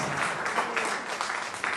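Steady applause from a church congregation, dense and continuous clapping filling the whole stretch without pause.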